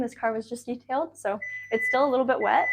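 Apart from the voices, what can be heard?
beeping from a 2023 Kia Sportage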